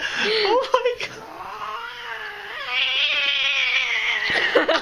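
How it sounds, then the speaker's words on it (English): An angry cat caterwauls in loud, drawn-out wavering yowls that rise and sustain, with a few shorter cries and a person briefly talking nearby. "She's an angry little kitty."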